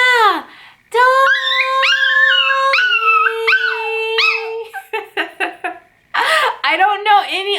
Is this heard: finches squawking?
no